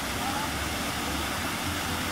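Water rushes down steadily in a continuous broad hiss, like a small waterfall splashing into a pool nearby, at a spa pool waterfall in Hajdúszoboszló, Hungary.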